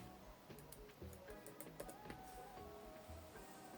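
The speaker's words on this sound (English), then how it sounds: "then type the photo name" Quiet, close computer keyboard typing, with a few quick, light key clicks in scattered bursts over faint background hum.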